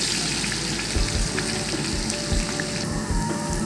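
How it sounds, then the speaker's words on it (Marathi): Garlic frying in hot tempering oil, a loud continuous close sizzle and crackle with a few soft knocks of a spoon against the pan. "लसूण तळून घेऊ आपण."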